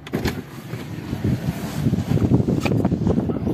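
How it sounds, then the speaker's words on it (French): Strong wind buffets the microphone in gusty, rumbling bursts at a Tesla Supercharger station, with a low vehicle drone underneath. "Pas mal de vent"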